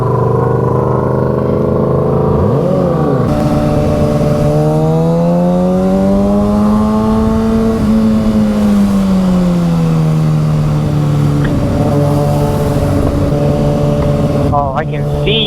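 Kawasaki ZX-6R sport bike ridden hard down a highway, its engine droning loud and close with smooth rising and falling pitch swells, wind roar throughout, and a rider talking over it.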